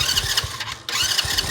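Four-wheeler engine after a carburetor replacement, fired with a key and button: a short loud burst of cranking and catching, steady rough chugging with a brief dip partway through, close up.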